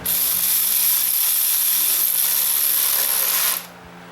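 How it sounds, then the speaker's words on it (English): A power wrench runs on valve cover bolts with a loud, steady high-pitched whir and hiss for about three and a half seconds, then cuts off abruptly, leaving quiet background. "When the wrench stops, that's a good place for you to stop."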